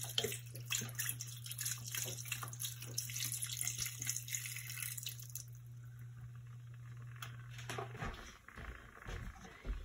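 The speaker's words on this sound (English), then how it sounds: "And we're going to add beef stock." Beef stock pours steadily into a pot of gnocchi beef stew with a continuous splashing, trickling flow and a low hum, then tapers into a few scattered drips near the end.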